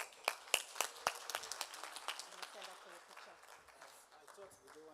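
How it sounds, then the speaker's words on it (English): Applause for a conference panel on the African Continental Free Trade Area, faint and fairly distant, starting with a few sharp separate claps, then thinning into scattered clapping under murmuring voices. "a final round of applause."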